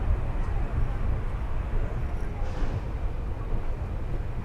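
Mangalore to Mumbai superfast express train running at night after departing Mangalore Junction, a steady low rumble of wheels and carriage noise heard from inside, with faint voices in the background.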